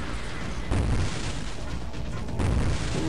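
Rocket explosions in the video game Painkeep, dense, continuous booming blasts and rumble filling the arena, with several heavier bursts layered over a loud, noisy game soundscape.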